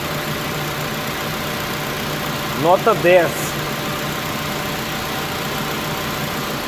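A car engine idles after its fuel injectors have been cleaned, giving a steady low hum throughout while someone briefly speaks over it near the middle.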